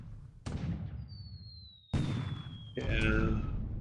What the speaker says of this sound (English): So the 6-inch gun is hitting this ship hard.